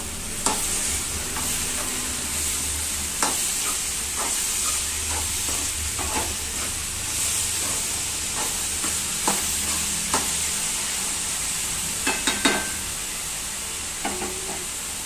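Onions with salt stirred in a frying pan, a continuous close sizzle broken by repeated sharp scrapes and clinks of the spoon against the pan, no voices.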